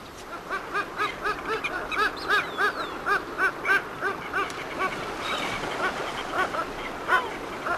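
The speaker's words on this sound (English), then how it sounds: "There were always plenty of kelp geese browsing on rocks close to the kelp beds." Kelp geese on rocks near kelp beds on the Chilean coast give repeated nasal honks in a steady, overlapping chorus at moderate distance, with a faint background hiss.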